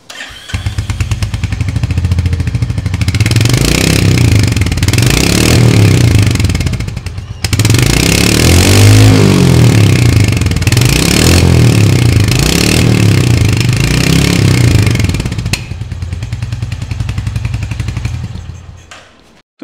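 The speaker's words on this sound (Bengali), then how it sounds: "তো এবার এই বাইকটার সাউন্ডটা একবার আমাদের শুনিয়ে দিই।" A Royal Enfield Hunter 350 motorcycle starts and runs up close in a showroom, its loud single-cylinder thump pulsing through repeated rises in revs before it settles back to idle.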